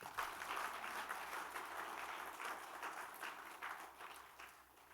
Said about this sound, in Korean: 하나님께 감사의 영광의 박수로